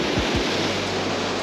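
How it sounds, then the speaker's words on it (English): Ocean surf crashing against jetty rocks at Oceanside, California, a steady loud roar of water and spray with a low rumble, close by and unbroken. "The waves are super spooky right now."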